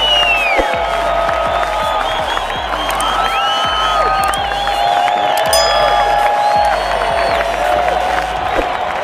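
A large crowd cheers, whoops and claps loudly and continuously as a team enters at a sangeet celebration, with shrill whistles and shouting voices layered over a dense, steady roar.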